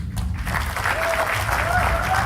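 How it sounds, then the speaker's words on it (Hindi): Applause from the audience at a comedy roast show greets guest Uorfi Javed, a dense, steady wash of clapping filling the room, with a sustained voice or music tone threading faintly underneath. "तो उर्फी के लिए एक जोरदार तालियां बजाएंगे."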